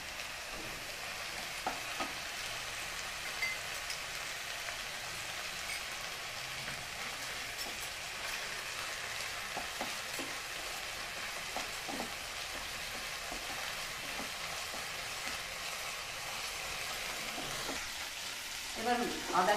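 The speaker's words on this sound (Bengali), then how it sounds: "পেঁয়াজটা লাল লাল করে ভাজা হয়ে গেছে, এবার আমি আদা বাটাটা দিচ্ছি" Ginger paste frying with browned onions in a pan, a soft, steady sizzle with scattered stirring clicks and scrapes over a long stretch, fairly faint, becoming louder and busier at the very end.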